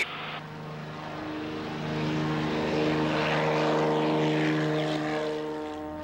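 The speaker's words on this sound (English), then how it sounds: "The high performance takeoff in the Bellanca happens so quickly that you have to be prepared to rotate the aircraft as soon as you hit 40 miles an hour" A Bellanca propeller airplane makes a high-performance takeoff at full power, its engine a loud, sustained drone with a steady harmonic hum that swells in the middle and stays strong to the end, with no speech.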